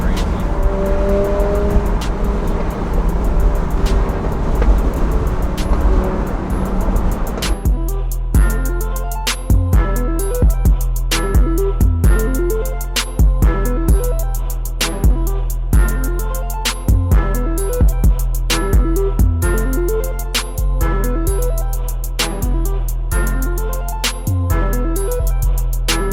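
A Mercedes-Benz supercar engine roars loudly and steadily for about seven seconds, then cuts off as rhythmic, beat-driven music takes over for the rest.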